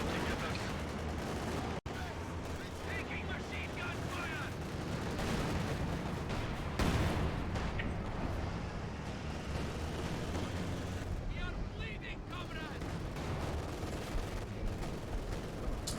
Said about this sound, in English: A nice light artillery barrage, forcing away the Sysgun